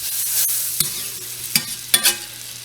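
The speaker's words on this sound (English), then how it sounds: "we're going to take 6 tablespoons of butter and get that in our skillet that we have on medium heat again. I use a whisk for this part of it." Butter being whisked in a skillet over medium heat gives a soft, steady sizzle, with three or four sharper metallic taps and scrapes of the whisk against the pan.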